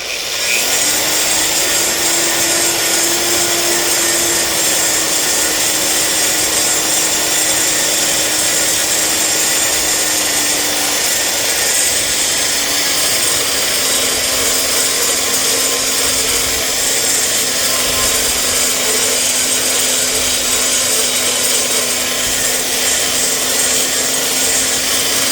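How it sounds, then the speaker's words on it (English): A power grinder works down a weld on an exhaust header flange, a loud, sustained whirring grind held at a steady pitch for the whole stretch, close and alone without speech. "Weld's one of the hardest things to grind."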